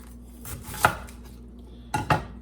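Bok choy being sliced with a knife on a cutting board for a Shanghai-style side dish, two or three firm close chops separated by a pause, over a quiet kitchen hum.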